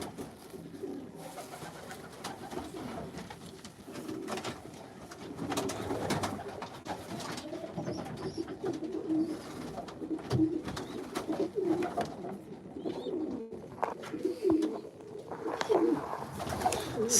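Racing pigeons cooing steadily inside a crowded breeding loft, several birds overlapping in soft, continuous throaty calls at close range, with faint rustling and occasional sharper knocks among them.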